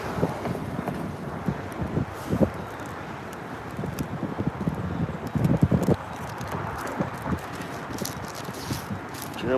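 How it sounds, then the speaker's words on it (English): Wind buffets a microphone outdoors, producing steady rumbling gusts with irregular thumps and swells throughout, fairly loud and constant with no clear talk over it. "this wind is killing me, man"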